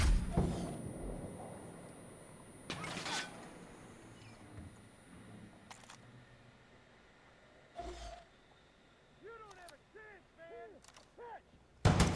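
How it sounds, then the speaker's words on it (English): A rocket launcher fires in the shooter game Far Cry 5, heard as a few loud, sharp blasts spaced across the stretch with rumbling tails, plus brief tonal chirps near the end. "That dude has a rocket launcher. Is he going to shoot? Oh, he did."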